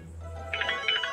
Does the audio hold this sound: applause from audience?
no